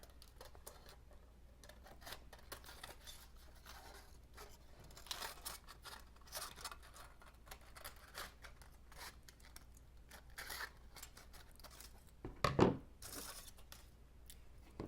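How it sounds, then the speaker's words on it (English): Scissors trim foil around a lens holder with a run of quiet, close snips and crinkles, then a sharper, louder cut and rustle near the end. "I'm just going to use some scissors and trim it off."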